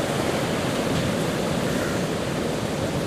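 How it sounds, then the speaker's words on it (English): Steady, dense rushing water where the River Carron meets incoming sea waves at Stonehaven, Scotland; a constant close wash of surf and current with slight swells in intensity and no voices. "As the river speeds up and goes out into the sea, the incoming wave stops it and sets it backwards."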